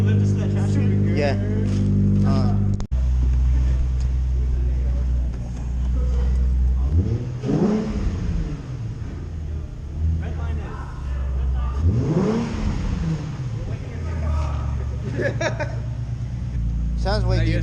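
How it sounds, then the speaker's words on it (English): Subaru car engine revving nearby, with a steady idle broken by two strong rising blips, while people talk over and between the revs. "you're listening to the Subi right now"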